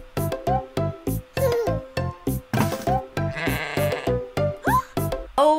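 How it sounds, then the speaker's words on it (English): An unhappy sheep bleating over and over as it tries to get away, loud close repeated cries in a steady rhythm with a brief rattling noise partway through. "clearly this sheep is not happy and trying to get away"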